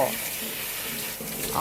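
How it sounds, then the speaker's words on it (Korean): Water runs steadily over a part of a Philips Baristina coffee machine as it is rinsed, a continuous close splashing hiss with no talking. "물로 씻는 소리 들리시죠, 여러분?"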